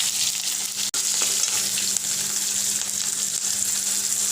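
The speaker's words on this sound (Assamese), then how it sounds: "ইয়াতে মই তেলতে অকল নহৰু আৰু কেঁচা জলকীয়া দিছোঁ।" Garlic and green chili fry in hot oil with a steady, dense sizzle that holds close and even throughout, broken only by one sharp tap near the start.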